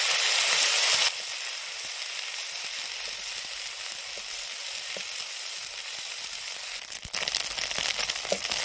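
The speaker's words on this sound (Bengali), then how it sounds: "এবার আমি পেঁয়াজের পেস্টটা দিয়ে দেব, দিয়ে ভাজা ভাজা করবো একটু" Onion paste sizzles and fries steadily in hot oil for a Bengali rohu fish kalia, a close, continuous crackling hiss that holds at a fairly even level with a brief louder burst near the end.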